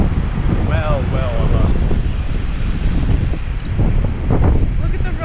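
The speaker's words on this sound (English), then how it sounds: "Look at how high the waves are out there." Towering surf breaks on a Jamaican beach, a loud continuous roar of crashing waves mixed with heavy wind buffeting the microphone, with a person's voice briefly heard over it.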